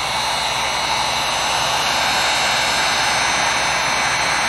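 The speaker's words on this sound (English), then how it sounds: "We can use a hair dryer for this." A hair dryer blows steadily and loudly close by as it heats wax on a canvas bag, a continuous even whoosh with no pauses.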